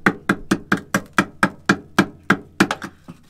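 Rapid hammer-like tapping on a rust spot on a Fiat Ducato motorhome's metal body, about a dozen sharp knocks in a quick, fairly even rhythm, close and distinct with no talk.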